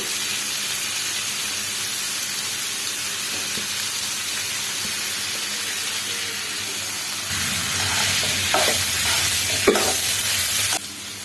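Mixed vegetables for chicken vegetable chow mein, with papaya pieces and tomato sauce added, frying and being stirred in a pan, a steady loud sizzle with scraping stirs growing busier toward the end, no voices.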